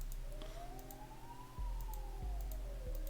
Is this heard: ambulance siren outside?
yes